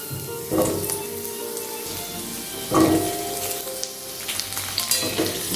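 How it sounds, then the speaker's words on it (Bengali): Diced potatoes frying in oil left over from frying lentil fritters make a steady, close sizzle, with a few louder bursts of crackling and stirring. "বড়া ভাজার তেলে"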